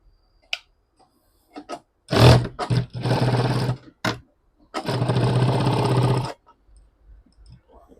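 A sewing machine stitches a quarter-inch seam along the edge of a bag made from a pant pocket, running in two sustained bursts of steady motor whir with rapid needle clatter, separated by short pauses and a few light clicks.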